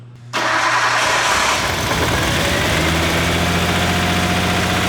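A Nissan RB engine with a misfiring cylinder cranks and catches, then settles into a rough, loud idle close by, with no talk over it.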